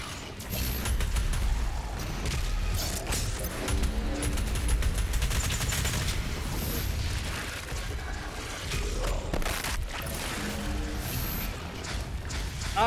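Rapid rocket launches and explosions from the lock-on launcher in DOOM Eternal, mixed with mechanical clanks and constant combat noise in a dense, loud barrage.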